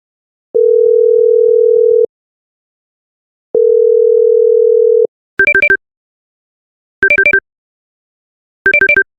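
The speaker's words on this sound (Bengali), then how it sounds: "দাঁড়া ফোন লাগাছি" Two long, steady telephone ringing tones sound with a pause between them, then three short trilling electronic ring bursts follow; no voices.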